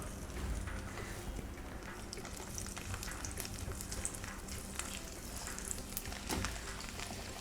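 Small garlic cloves frying in oil for a garlic pickle, giving a steady close sizzle and crackle throughout with no talking.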